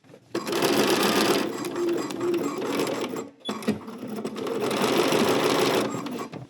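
Sewing machine stitches a garment pocket at a half-inch seam in two long continuous runs, loud and close, with a short pause between bursts and no talking.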